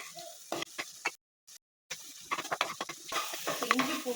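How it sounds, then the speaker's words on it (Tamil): Ginger and garlic sauté in a pan with soft, patchy sizzling and stirring clicks, broken by a short stretch of silence before the sound picks up again. The sauté is for a mushroom gravy. "ஸோ இஞ்சி பூண்டு போட்டு வதக்கிட்டுருக்கோம்."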